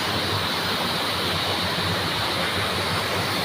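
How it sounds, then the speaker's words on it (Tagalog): A waterfall roars with a loud, continuous, even rush of falling water, close by and uninterrupted. "Waterfall."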